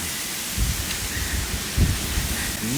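Heavy rain falling outdoors during a food delivery run, a steady broadband hiss with a couple of low thumps, close and fairly loud without talk.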